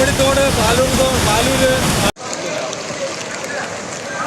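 A flooded river pours over a road after the Wayanad landslide in Kerala, giving a loud, continuous roaring rush of water close by, broken by a brief cut partway through before the torrent resumes.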